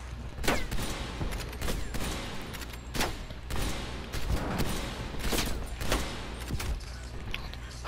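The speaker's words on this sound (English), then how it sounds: "The gun went off." Rapid gunfire in the Tundra sniper video game, a dense series of sharp cracks and bangs with mechanical clatter, loud and close over a constant noisy battle background.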